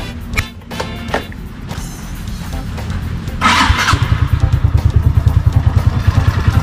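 A motor scooter engine with a newly installed pulley set starts up and settles into a close, steady idle with a regular pulsing putter; the carburetor sounds slightly uneven.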